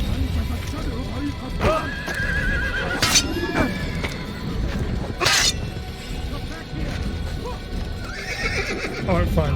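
Horse whinnies and clip-clopping hooves ring out in an Assassin's Creed game scene, with sharp neighs cutting through, a shattering crash, and a player talking over the game sounds.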